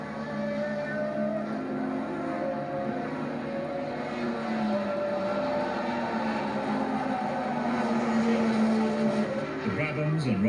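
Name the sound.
Formula One racing cars at 1982 Brazilian Grand Prix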